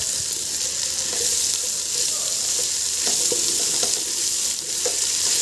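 Soya chunks fry in hot oil in a pan while cooking amaranth-leaf rice, a loud, dense sizzle running throughout, broken by occasional stirring clinks and scrapes.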